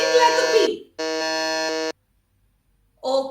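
A quiz-show contestant buzzer at a teachers' quiz quarter-final, one loud, flat electronic buzz lasting about a second, with brief bursts of other sound just before and after.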